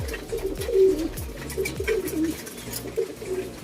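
Pigeons cooing repeatedly in a loft while feeding on small seeds, with soft overlapping coos and low murmurs close by, alone without talk.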